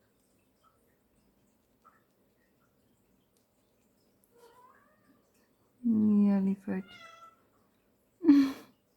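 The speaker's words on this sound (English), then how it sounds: "She meowed pretty loud." A pet cat meows loudly indoors, a long call followed by a shorter one and then a final sharp meow, close to the microphone after a brief spoken phrase.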